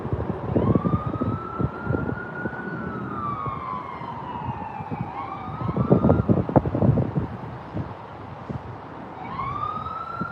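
Siren of an approaching government car, wailing up and down in long sweeps at moderate distance over passing traffic and rumble, fading briefly then rising again near the end.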